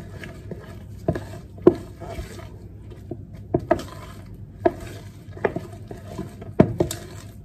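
Banana muffin batter is mixed by hand in a bowl, with soft scraping and a series of sharp utensil taps against the bowl at irregular intervals, fairly close and moderately quiet.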